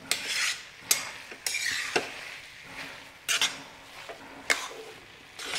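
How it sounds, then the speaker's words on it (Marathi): Carrot halwa cooking in milk is stirred in a pan over medium heat, with a spoon making repeated irregular scraping strokes against the metal, close and clear with short pauses between them and no voices. "मीडियम गॅसवर हे 2 ते 3 मिनिटं व्यवस्थित परतून घेऊया"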